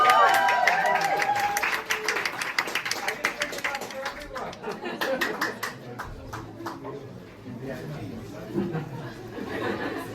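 An audience at an animation showcase applauds continuously, dense clapping filling the room loudest at first, then thinning and fading with crowd chatter and a few laughs mixed in.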